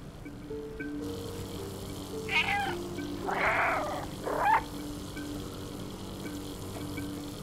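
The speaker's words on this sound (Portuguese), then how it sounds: "Olha o gato desconfiado." A cat in the video game Stray lets out a couple of clear, fairly close meows against a quiet ambient game backdrop, with no talking.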